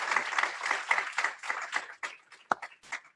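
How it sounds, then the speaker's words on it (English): A small webinar audience applauds the panelists, with scattered hand claps that start fairly dense and then thin out into a few isolated, sharper claps before stopping. "let's give a round of applause to our panelists"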